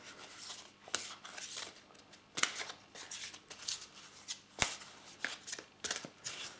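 Oracle cards are shuffled in quick, papery bursts of riffling and sliding, several irregular rounds with soft taps between them, close and clear with no talking.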